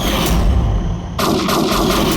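A loud, sharp gunshot blast cuts in abruptly over heavy low rumbling, leaving a sustained harsh roar behind it.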